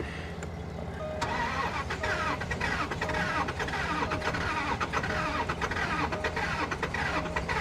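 A cheap, broken Range Rover on premium petrol cranks and catches, then its engine runs steadily and fairly loud for several seconds, smoking at the exhaust, with no talk.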